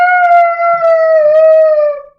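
A child imitates an elephant burp with a single drawn-out, tuneful vocal drone that wavers slightly and slowly falls before trailing off, loud and close.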